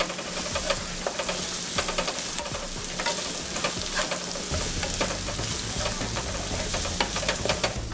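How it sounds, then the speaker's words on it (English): Minced garlic and dried thyme frying with softened onions in a pan for meatloaf: a dense, continuous loud sizzle with busy crackling and stirring scrapes throughout, close up. "I'm going to stir around my garlic and thyme and let that cook only for about 15 to 20 seconds"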